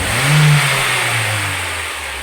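A car engine revved as the accelerator is pressed fully and released during a vacuum gauge check, a loud close rising roar that peaks quickly and then winds down toward idle.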